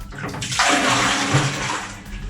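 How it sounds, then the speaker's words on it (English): Leftover wash water poured from a pail into a toilet bowl, a steady gushing splash that swells and then tails off. "I'm just gonna pour it in the toilet bowl."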